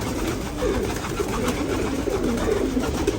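An old-lineage pigeon, molting, coos in a low, repeated, throaty rhythm, close and steady throughout with a faint background hiss.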